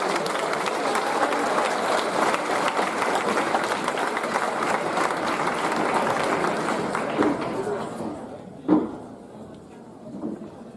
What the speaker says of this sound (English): Give this one a round of applause.